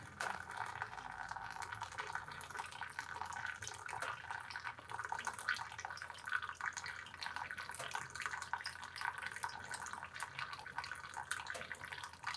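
A thin, steady stream of water trickles continuously for several seconds as a continuous pour over coffee, quiet and close, with faint background hiss.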